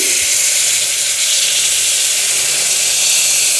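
Milk poured into hot roasted semolina in a pan gives a loud, steady hiss and sizzle that holds evenly throughout, close and with no voices.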